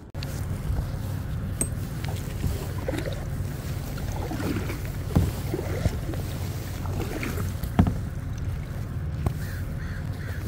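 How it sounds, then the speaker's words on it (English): The Portland Spirit cruise boat's engine warms up as a steady, low, distant rumble over open water, while crows caw now and then above it. "Look like the Portland Spirit came out, warming the engine up"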